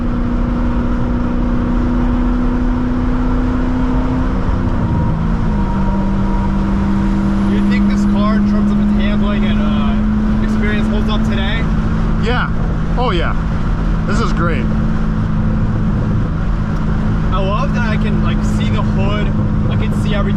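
A 2006 Chevrolet Corvette Convertible with a six-speed manual pulls away under throttle, its engine drone rising and shifting pitch through the gears as people chatter over it inside the cabin.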